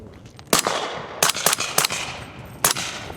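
Sharp gunshots from a custom rifle with a 12-inch barrel, five separate reports spaced irregularly over a few seconds, loud and close, each with a short ringing tail.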